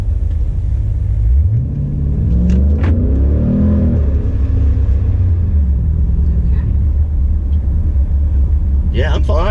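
A car fitted with a D1X supercharger pulls away hard, its deep rumbling engine rising in a sweeping whine as revs climb then settle, loud and close inside the cabin, with people talking over it.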